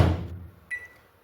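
A microwave oven holding a bowl of water is started: a dull thump of the door closing, then a short bright electronic beep, close and alone in a quiet kitchen.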